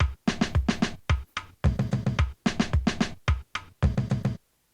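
An Afro Cup 5 drum pattern from a Drummer VST plays in its original form, a tight loop of punchy kick and percussive hits in repeating bursts with short gaps, loud and dry with no voices.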